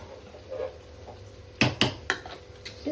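Chicken biryani being stirred in a pot, a few sharp metallic scrapes and clinks of a spoon against the pot in quick succession over a low background hum, fairly close.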